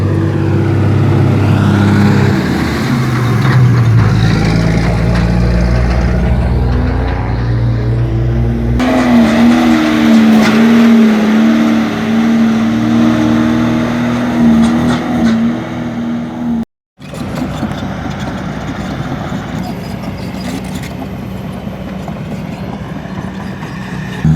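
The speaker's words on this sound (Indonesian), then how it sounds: "masih banyak sekali mobil yang lalu lalang yang membawa tanah timbunan" Heavy trucks hauling fill soil roll past one after another on a toll road construction site near Padang, a continuous loud engine roar and tire rumble with rising and falling pitch as vehicles pass close by.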